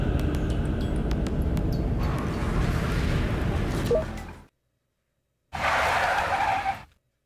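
A car skids hard around a corner while fleeing, a loud continuous tire squeal and engine roar lasting several seconds, cutting out abruptly, then a second shorter burst of skidding.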